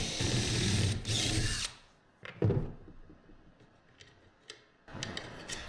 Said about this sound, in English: So the ones that are a little tight we're going to drill with a 5/16 hole.